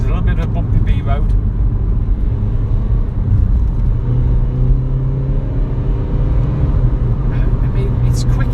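A Mini Paceman Cooper SD diesel in sport mode is driven briskly along a bumpy B road, with a constant loud low engine and road rumble filling the cabin and a few faint knocks and clatters over it.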